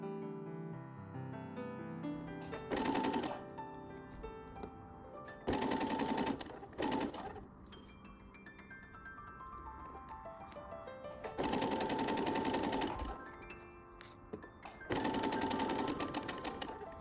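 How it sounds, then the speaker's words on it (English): A sewing machine runs in several bursts while stitching the right side seam of a beginner A-line skirt, its fast steady whirring starting and stopping with quiet pauses between runs, close and clear with no voices. "Now I'm going to sew the right side seam, and I'll press the seam open."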